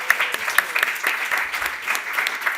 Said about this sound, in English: let's give a round of applause for our panelists.